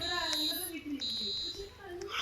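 A high, steady electronic alarm tone beeps in long pulses in the Roblox game Brookhaven, with voices talking underneath it.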